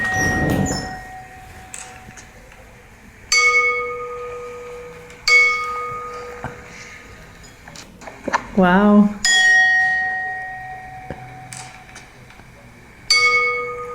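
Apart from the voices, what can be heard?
balls struck while a microphone is held close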